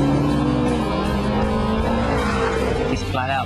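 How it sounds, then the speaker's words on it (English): A McLaren MP4-12C sports car engine at speed on a test track, a loud sustained harmonic roar with a slight shift in pitch, close and continuous, with faint tire noise near the end. "The sound of the engine is lovely."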